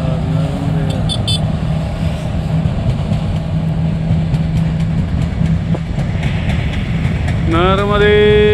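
A freight train rolls past close by, a loud steady rumble and rattle of wagons throughout, with horn-like tonal blasts near the start and end.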